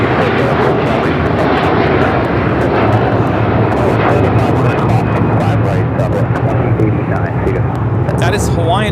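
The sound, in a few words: Hawaiian Airlines Airbus A330-200 taking off from LAX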